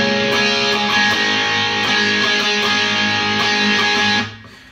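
A distorted electric guitar strums the chorus of a song in a dense, loud, sustained wash of chords with rhythmic accents, then cuts off abruptly near the end.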